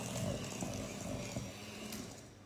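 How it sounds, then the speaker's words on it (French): Electric hand mixer beating biscuit dough for stained-glass sablés, a steady mechanical whir with a rattling, ratchet-like texture that runs close and continuous, with no talk over it. "j'ai mon batteur qui fait beaucoup de bruit"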